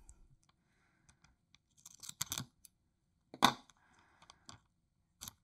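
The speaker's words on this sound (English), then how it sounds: "I'm just going to cut a little length off of here." Scissors snip through a length of tape at a resin jewelry workbench, with scattered small clicks and rustles and a few crisp cuts, close by and quiet, without any talk.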